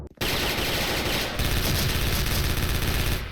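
Rapid automatic gunfire from the Special Force shooter video game rattles loudly and continuously, a dense burst of close shots filling the whole clip.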